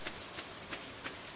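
Rain falls in the farming game Stardew Valley as a steady, soft hiss with faint evenly spaced patter pulses, quiet and continuous with no voices.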